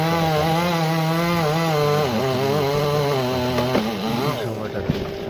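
Chainsaw cutting a tree, a loud steady engine drone with pitch shifting as it bites into the wood, someone talking over it throughout.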